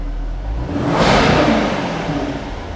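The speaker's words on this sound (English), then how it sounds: "I'll just give it a little blip so you can hear it." A 2021 Jaguar F-Type's 5-litre supercharged V8 with sports exhaust blips its throttle once, the exhaust swelling to a loud roar around the middle before settling back to a deep idle.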